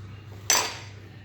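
A spoon knocks once against a cooking pot as coriander powder goes in, a single short metallic clink over a low steady background hum.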